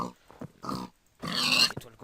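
Pigs in a video game give short, close grunts and oinks in a few separate bursts, the last one longer and louder, with no talking over them.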